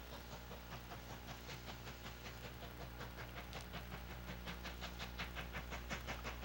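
A westbound passenger train rolls past on the railway, a steady loud rumble with rhythmic clickety-clack of wheels over rail joints that grows slightly stronger toward the end, with no voices.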